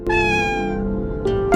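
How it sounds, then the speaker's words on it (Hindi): An animated cat meows loudly and close in a long drawn-out cry, followed by two short, higher meows at the end, with no talking. "पीछे से बिल्ली की मियाओं की आवाज आई"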